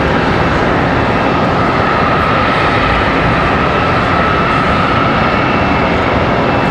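An American Airlines Airbus A320 departing Charlotte Douglas bound for Des Moines, a loud, dense jet engine roar that stays steady and close for several seconds with no voices.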